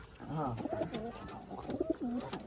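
Pigeons coo inside a clean pigeon coop, several birds overlapping in a steady stream of low, warbling calls that fill the whole stretch at close range, with no pause between them.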